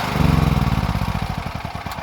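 A Genergy Limited 7000 petrol generator is running and then switched off. Its close, loud engine hum gives way to a pulsing, slowing chug as it winds down toward stopping.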